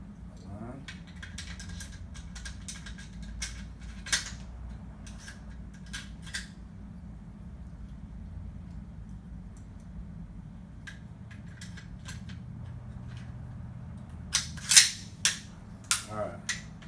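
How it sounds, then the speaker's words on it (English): An AR-15 bolt carrier group and charging handle being slid into the rifle during field stripping, a quiet series of sharp metallic clicks and taps, scattered then clustered into several louder snaps near the end, against a hushed room. "You're going to slide your bolt carrier group into the rifle."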